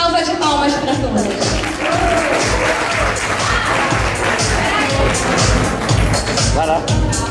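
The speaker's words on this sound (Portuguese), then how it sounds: "Salva de palmas para todas." A crowd at a Mini Miss Brasil Mundial 2016 pageant applauds the Mini category contestants with sustained clapping and some cheering, while a presenter speaks over the noise.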